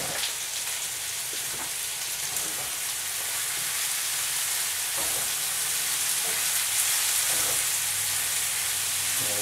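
Shrimp and pork fajita filling with marinated meat, fresh oregano and broccoli sizzles steadily in a hot pan, a continuous close, fairly loud frying hiss with faint crackles and occasional soft stirring taps, no talking.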